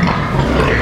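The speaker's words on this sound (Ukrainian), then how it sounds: "Це свиноматки" Breeding sows on a pig farm grunt loudly and continuously at close range, a dense rough snorting texture with no pauses.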